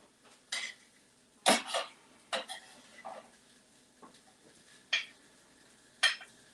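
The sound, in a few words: sauteed vegetables being put on a plate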